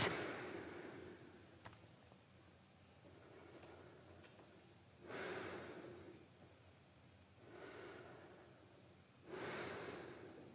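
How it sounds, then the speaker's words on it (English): Slow, steady breathing while holding a yoga pose, three or four soft breath sounds spaced a few seconds apart, quiet and close with a faint background hiss and no talking. "And just breathe."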